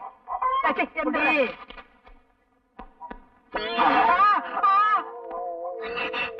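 A chicken clucks and squawks in lively, uneven bursts close by, with a short quiet gap before the calls resume more loudly.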